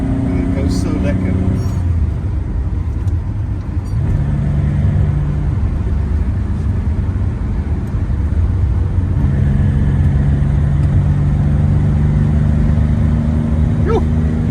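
A 1982 Maserati Merak sports car drives on a freeway, its engine droning steadily with shifting pitch and a low rumble throughout, while people talk inside the cabin.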